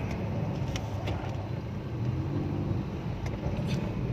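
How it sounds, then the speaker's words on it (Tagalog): Road traffic heading to Malolos, a steady low rumble of idling and slowly moving cars with a few faint clicks and passing sounds, continuous and moderately near. "Wow, traffic."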